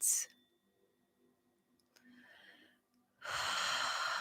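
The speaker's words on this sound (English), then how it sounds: "observing your body breathing. Inhale big and exhale big." Deep breathing during a guided meditation workshop: one loud, close breath at the start, near silence with faint small sounds, then a long, strong, airy breath rushing in near the end.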